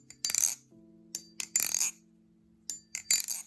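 Sharp metallic clacks and clicks of Prysma Pro butterfly knife speed channel handles in quick clusters, three bursts separated by short pauses, close and crisp with a faint ringing hum underneath.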